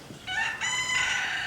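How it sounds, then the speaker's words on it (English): A rooster at Little River Zoo in Norman, Oklahoma, crows once, clear and fairly close, the rising call holding strongly for over a second against quiet surroundings. "I want to get a closer look at the rooster."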